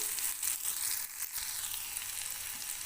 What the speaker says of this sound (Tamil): ஃபஸ்ட்டு வெங்காயம் கொஞ்சம் வதங்கட்டும்